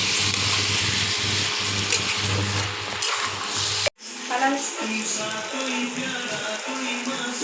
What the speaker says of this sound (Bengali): জল দিয়ে দিলাম বন্ধুরা।